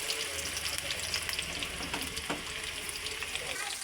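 Ginger hits a hot pan of chilli and garlic and sizzles, a continuous crackling hiss with small pops, close and moderately quiet.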